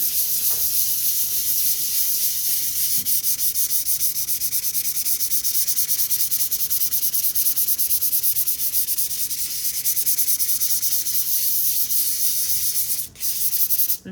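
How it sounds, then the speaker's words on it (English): Fine sandpaper rubbed back and forth over a gessoed wooden icon panel, a close continuous raspy hiss of rapid sanding strokes lasting the whole stretch, with a brief pause near the end. "every now and then just turn your sandpaper over."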